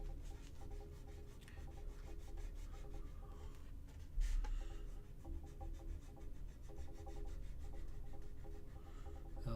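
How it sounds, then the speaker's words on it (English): An eraser scrubbing coloured pencil off paper, a soft, steady rubbing and rasping in quick back-and-forth strokes, close and fairly quiet, with a slightly louder scrape partway through. "I'm just getting this color everywhere and I need to erase it."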